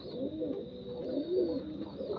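Racing pigeons coo softly and continuously at close range, their low rolling calls rising and falling over a steady background hum.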